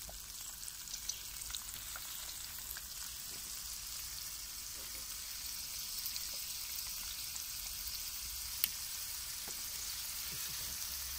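Pancit canton noodles sizzle as they stir-fry with soy sauce in a pan on a Trangia camping stove, a steady faint crackle and hiss with small clicks throughout.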